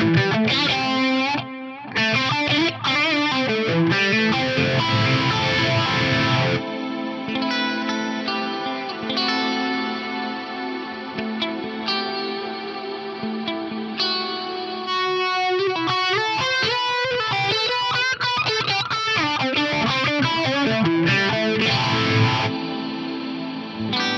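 An electric guitar plays through a two-amp modeling preset with a dirty distorted tone plus phaser and delay, continuous swirling, echoing riffs with no talking.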